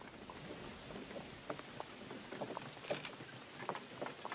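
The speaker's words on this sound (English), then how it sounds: "Damn it, it's raining." Rain in The Oregon Trail video game falls as a soft, steady patter of drops, fairly quiet with scattered brighter splashes throughout.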